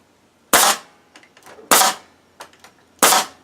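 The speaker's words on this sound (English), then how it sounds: "I mean, you just bang them in." Hammer driving nails into wood while building a firewood log rack, three loud sharp strikes about a second apart with fainter taps between, close and without talk.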